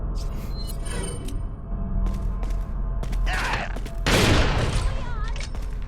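Shotgun blasts from Resident Evil 4 erupt in loud, booming bursts during frantic combat, mixed with game effects and intermittent talking over the action.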